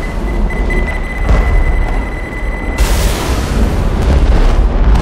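A pipe bomb goes off in Left 4 Dead 2, a loud booming blast that floods the mix partway through, with a steady beeping tone beforehand and dense game noise throughout.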